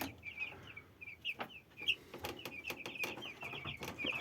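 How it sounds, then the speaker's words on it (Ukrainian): Broiler chicks in a brooder in a poultry shed, peeping in a rapid, overlapping chorus of high chirps, fairly close, alongside soft scratching and tapping. "Курчата активні."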